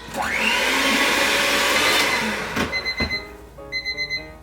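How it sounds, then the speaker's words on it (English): An electric mixer whirs up to speed and beats gluten-free cake batter with oil for a couple of seconds, then a few clicks and two runs of short electronic beeps follow close by. "So you add your thing of oil. Then they said for about 45 seconds."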